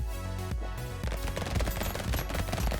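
Rapid, dense bursts of SMG fire rattle continuously in the arcade shooter Brotato, layered over busy game music with no talking.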